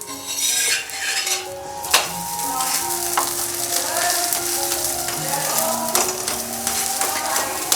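Cauliflower paratha roasting on a pan over medium-low flame gives off a steady, close sizzle, broken by light spatula scrapes and occasional metallic clinks against the pan.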